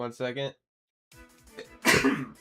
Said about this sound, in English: Hold on, I'm gonna sneeze again.